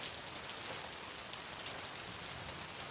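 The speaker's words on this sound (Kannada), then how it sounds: "ಗುಡುಗು, ಸಿಡಿಲು, ಮಿಂಚು, ಗಾಳಿಯ ಸಮೇತ ಮಳೆ ಬಂದಿರೋದು ನೀವು ನೋಡ್ಬೋದು" Steady rain falls on a surface during a storm in Karnataka, a dense, even hiss of drops that holds constant throughout.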